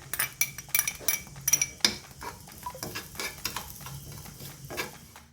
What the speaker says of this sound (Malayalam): അതിലേക്ക് 1 ടേബിൾ സ്പൂൺ പഞ്ചസാര ഇട്ട് കൊടുത്തിട്ട് നമ്മൾ കട്ട് ചെയ്ത് വെച്ചിട്ടുള്ള ഓറഞ്ചിൻ്റെ തൊലി ഇതിൻ്റെ കൂടെ ഇട്ടിട്ടൊന്ന് മിക്സ് ചെയ്തെടുക്കാം.